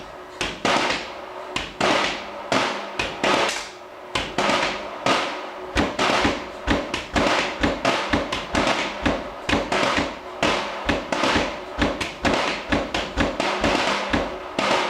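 Drum kit played in a math rock pattern, a punchy kick drum pounding in rapid, irregular groupings with crashing cymbal and snare hits layered over, loud and close throughout.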